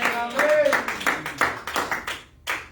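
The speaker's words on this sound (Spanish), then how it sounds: "Denle aplausos al Señor en esta hora" A church congregation claps in a steady rhythm during worship, the claps ringing out under voices.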